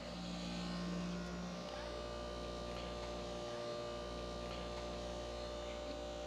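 A PCCA RAM resonant acoustic mixer runs at a high-intensity mix setting, giving a steady, loud, close electric hum and buzz with a constant low drone throughout.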